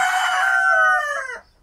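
A single loud rooster crow rings out close by, one long drawn call lasting over a second before cutting off, with no voices over it.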